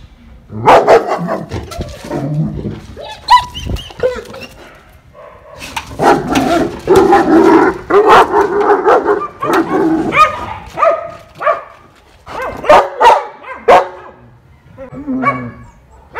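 A German shepherd guarding new territory barks loudly and close by in repeated bursts, with some yips and whimpers between volleys and brief pauses.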